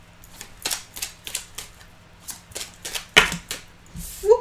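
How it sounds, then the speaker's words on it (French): Tarot cards are reshuffled by hand in a series of close, crisp snaps and flicks with an uneven rhythm, closing with a brief soft thump. "je vais remélanger les cartes pour voir ce qui ressort pour vous."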